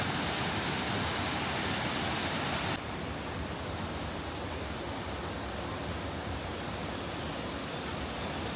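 Steady roar of the waterfall in Devil's Bridge gorge, heard close by at the bottom of steep stairs, a dense continuous rush that drops slightly in loudness partway through.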